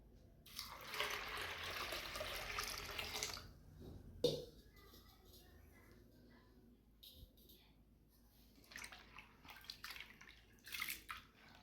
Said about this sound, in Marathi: इकडे आपण पाणी काढून घेतले, तर परत एकदा यामध्ये पाणी घालायचे.